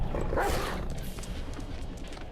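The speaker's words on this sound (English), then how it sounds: "What is this dog like?" In the video game Black Myth: Wukong, a dog yelps and barks briefly at the start over a dense, noisy game soundscape that carries on steadily afterward.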